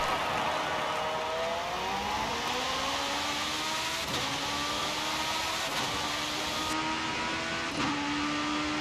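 A race car engine in Forza Horizon 5 drones and revs continuously, pitch climbing through gear changes, with a steady mechanical whine throughout.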